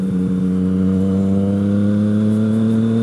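Yamaha MT-09 (FZ-09) motorcycle engine riding through clutchless shifts: a loud, close, steady droning engine note that holds evenly throughout.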